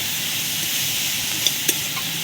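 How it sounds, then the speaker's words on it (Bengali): Tomatoes and turmeric being stir-fried for a small-fish curry crackle in a continuous close sizzle, with two brief sharp spatula taps near the end and no talking. "হলুদটাকে দিয়েও কষিয়ে নেবো এগুলোকে।"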